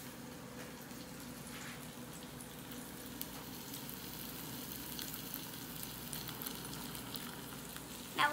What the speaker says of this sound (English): Oh, look at that sizzle.